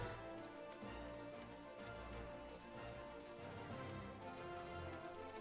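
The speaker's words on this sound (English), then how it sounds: "It's a rainy day in Ul'dah." Rain falling on a city street in Ul'dah, a city in a video game, a steady, even patter of drops on hard surfaces that runs without pause through the whole clip.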